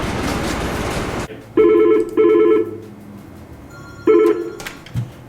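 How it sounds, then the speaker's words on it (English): An old-style telephone rings in three bursts of trilling bells at a diesel repair shop, separated by pauses, after a stretch of loud background noise. "the phone's ringing"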